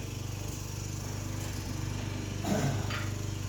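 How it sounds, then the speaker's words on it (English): Lawnmower engine running a short way off, a steady droning hum that holds unbroken, with a brief louder rattle near the end. "Guy started his lawnmower, perfect timing."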